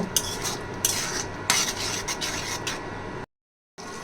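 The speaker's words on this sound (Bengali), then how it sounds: "এখন এই মশলাটা খুব ভালোভাবে কষিয়ে নিব।" Spice masala being stirred and sautéed in a pan for a spiced baim eel fish curry: repeated scraping strokes of a spoon against the pan over a soft sizzle, pausing briefly before resuming.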